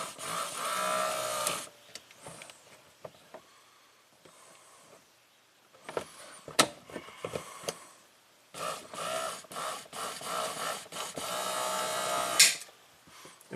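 The electric top motor of a Cadillac Allante convertible whirs in bursts as the faulty top is lowered, a close mechanical hum interrupted by clicks and clunks, with quieter gaps between runs.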